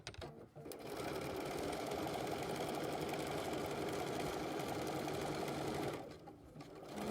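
A sewing machine stitches a paper-pieced heart quilt block, running in one steady, loud, continuous burst for about five seconds, with short pauses before and after.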